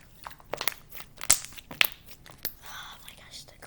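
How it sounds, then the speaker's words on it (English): Crunchy slime being squished and stretched by hand, giving close, crackling crunches and sharp pops in short bursts, with faint whispery talk around them. "Oh my gosh, the crunch."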